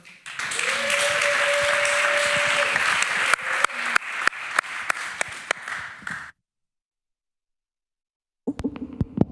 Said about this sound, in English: Please give a warm hand of applause for Franky Gogo.